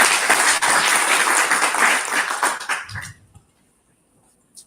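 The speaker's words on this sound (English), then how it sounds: "Can you please give him a round of applause?" Audience applause at a civic engagement conference, a dense, loud burst of clapping that fills the first three seconds, then fades abruptly into near silence with a faint trailing clap.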